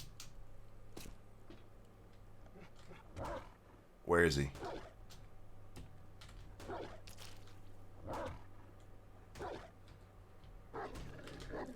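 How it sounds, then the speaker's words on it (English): Dogs in the survival video game 7 Days to Die bark in a brief burst, with a few scattered yips at a distance, under someone talking over a steady low hum of game ambience. "yeah, there's dogs in here, aren't there?"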